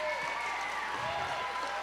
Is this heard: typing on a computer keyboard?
no